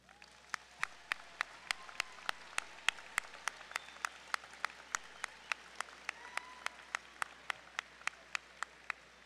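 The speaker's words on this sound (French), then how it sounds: "Les collègues, chers collègues, vous pouvez tous les applaudir." Applause from a graduation ceremony audience at CCNB Bathurst campus in 2023, honouring staff: a steady run of many overlapping hand claps over about nine seconds, with sharp individual claps standing out regularly above the dense crowd clapping, fairly distant in a large hall.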